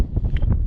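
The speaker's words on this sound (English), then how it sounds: "Very, very windy now, but still such a beautiful day." Strong wind buffets the microphone on a Scottish hilltop, a dense, loud low roar that surges in gusts throughout, with no one speaking.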